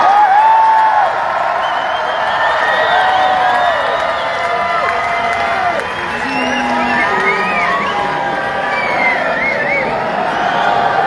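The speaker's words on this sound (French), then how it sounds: "entrez dans l'applaudissement, s'il vous plaît, pour l'équipe de France" Large crowd at a Club France evening event cheering, whooping and applauding the French national team, a steady dense roar with scattered shouts and whistles throughout, with voices mixed in.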